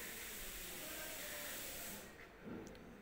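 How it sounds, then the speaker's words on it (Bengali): Curry gravy with paneer ingredients boils in a pan, a steady loud hissing bubble that drops away near the end, leaving faint soft pops. "তো দেখো ফুটছে, ঝোলটা ফুটছে টকবক করে"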